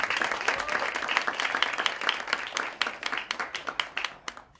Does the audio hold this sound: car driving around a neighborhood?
no